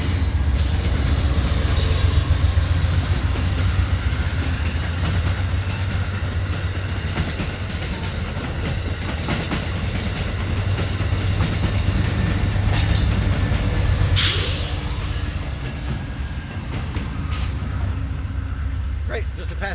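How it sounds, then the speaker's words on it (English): A passenger train passes at close range with a steady rumble and rhythmic clatter of wheels on rails, continuous throughout and loud. "Great, just a passenger train, nice and quick."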